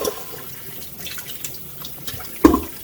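Hot water poured over instant ramen in a cup: a steady, soft hiss of liquid running throughout, ending in a brief louder clink or splash near the end, with no talking.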